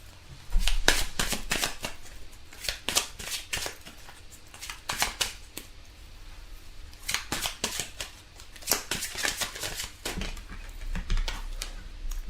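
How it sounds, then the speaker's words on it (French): Tarot-style cards shuffled and drawn during a love reading, giving bursts of crisp riffling and flicking in several rapid clusters, with quieter soft handling between, close and fairly loud, with no talking. "on va tirer quelques cartes pour éclaircir un petit peu"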